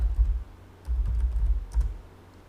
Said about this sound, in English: So set type to CNAME and let's type our target.